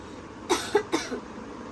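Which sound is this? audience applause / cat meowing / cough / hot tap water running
cough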